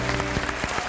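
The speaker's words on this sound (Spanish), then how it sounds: "Un aplauso grande." A studio audience applauds in a brief burst of dense, continuous clapping with no voices over it.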